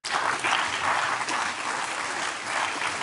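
A short burst of crowd applause, steady dense clapping at moderate volume with no voices over it, lasting a few seconds.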